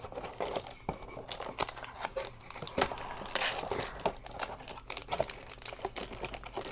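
A Strixhaven booster pack's foil wrapper is crinkled and torn open up close, with sharp irregular rustling and crackling bursts throughout.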